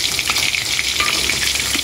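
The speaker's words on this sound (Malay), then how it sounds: "Ini goreng ikan kalau nak makan nasi." Fish fries in a pan with a dense, loud, continuous sizzle and crackling spatter close to the microphone, with no talk.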